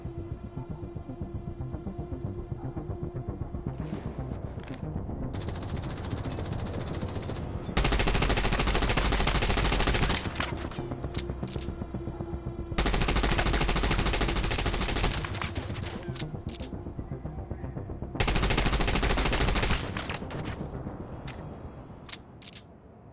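Turret machine gun in The Division Resurgence mobile game fires in three long sustained bursts of rapid gunfire, each lasting a couple of seconds, separated by quieter gaps filled with lighter shots and game ambience.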